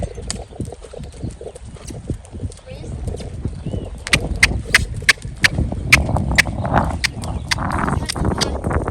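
Horse cantering, a rhythmic run of hoofbeats growing clearer and steadier, with a person talking and coaching over the footfalls.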